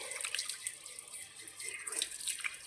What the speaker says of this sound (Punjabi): ਆਪਣਾ ਸੈਂਕ ਤੇ ਆਪਾਂ ਨੂੰ ਚੰਗੀ ਤਰ੍ਹਾਂ ਧੋ ਲਈਏ